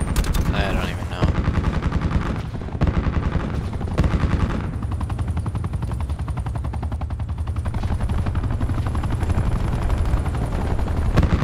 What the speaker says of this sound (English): Is that a friendly helicopter?